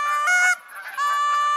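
Two loud honks in quick succession in the hunting game theHunter: Call of the Wild, each a bright, nasal goose call, with a short gap between and nobody talking.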